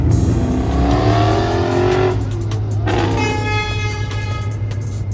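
A Mercedes-AMG engine at a car meet growls loudly nearby, its pitch climbing and falling as it revs, with a steady idle underneath and a second engine note layered in toward the end.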